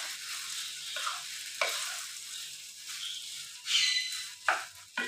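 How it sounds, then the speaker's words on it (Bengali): Rice pulao stirred in a pan over a low gas flame, with a soft steady sizzle and a few scraping strokes of the spoon, close up and quiet, with no talking. "গ্যাসের ফ্লেমটা কম করে দিয়ে এটা আমাকে নাড়তে হবে।"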